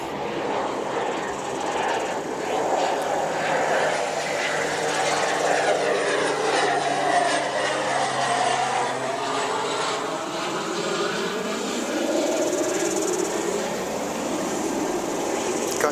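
Aircraft engine roar at Wellington Airport on a windless day, a steady broadband drone with a slowly shifting pitch sweep, loud and continuous throughout as the plane passes, with faint voices talking underneath.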